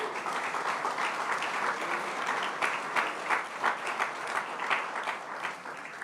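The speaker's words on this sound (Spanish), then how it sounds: "¿Alguien le da un aplauso al Señor," A church congregation applauds, a sustained wash of many hands clapping at moderate distance, steady throughout with slight swells and no talking over it.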